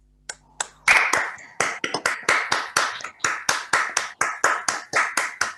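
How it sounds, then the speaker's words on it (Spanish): A burst of applause, hands clapping in a steady rhythmic beat that starts with a few claps and quickly fills in, loud and close. "recibimos con un gran aplauso a nuestra hermana y compañera Milagro Sala"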